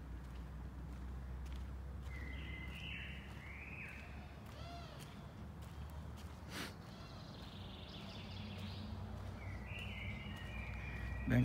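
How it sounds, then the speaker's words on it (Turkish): Morning birdsong in the countryside around Kuzuluk, Akyazı, Sakarya: a few short chirps and warbling calls come in scattered bursts over a steady low outdoor hum. "Sabahleyin böyle kuş sesleri. Bak susayım. Bak kuşlar dinleyin."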